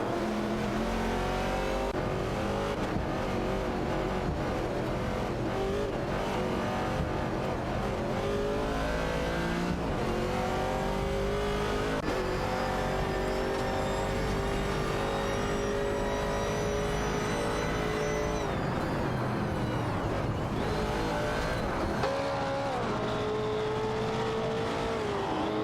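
In a racing video game, a 1970 Chevrolet Camaro and a Holden Torana A9X battle side by side. Their engines howl, rising and falling in pitch as they rev through gear changes, loud and continuous with overlapping engine notes.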